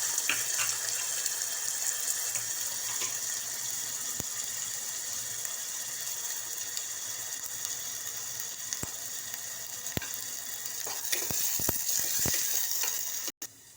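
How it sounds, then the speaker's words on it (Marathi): Garlic, onion and curry leaves sauté in hot oil, giving a steady, close hiss throughout with occasional sharp crackles and pops toward the end. "तेल तापले याच्यामध्ये लसूण कांदा आणि कढीपत्ता घालूया तेलामध्ये आणि चांगलं परतून घ्यायचं"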